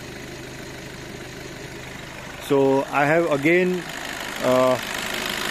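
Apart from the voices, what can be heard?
Skoda Octavia MK3 engine idling during coolant flush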